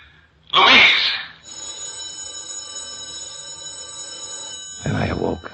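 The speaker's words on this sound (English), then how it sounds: "the telephone was ringing" A telephone rings steadily for several seconds, a sustained electronic tone between louder bursts of sound at the start and end.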